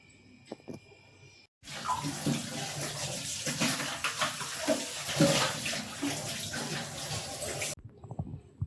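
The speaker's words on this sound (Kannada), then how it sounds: "ಕಾಯಿಪಲ್ಲೆ ಎಲ್ಲ ತೊಳೆದ್ನಿ" Tap water gushes steadily into a sink while fresh vegetables are rinsed under it, the running stream loud and close, beginning abruptly and cutting off near the end.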